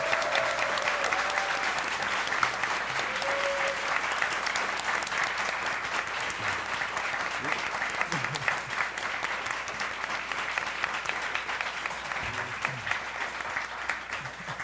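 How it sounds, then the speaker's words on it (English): Sustained audience applause fills a convention panel room, steady and dense clapping from a large crowd with no talk over it, holding at an even level throughout. "So let's give them one more round of applause."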